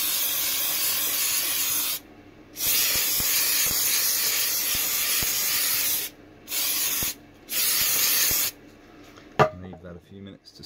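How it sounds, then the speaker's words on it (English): Spray glue hisses onto EVA foam for a modified prefabricated foot orthotic, in four long close bursts with short pauses between them, followed by a clatter of handling. "So I'm going to spray glue that."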